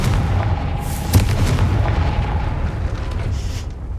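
A Confringo fire spell blasts in Hogwarts Legacy, landing as one sharp boom around the one-second mark above a dense, steady rumble of in-game ambience that persists throughout.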